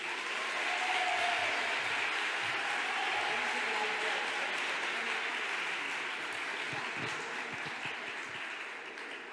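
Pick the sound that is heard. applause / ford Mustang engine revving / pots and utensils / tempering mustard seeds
applause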